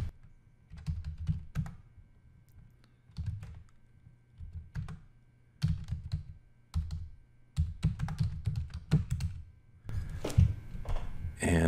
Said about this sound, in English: So I'll just type in the details.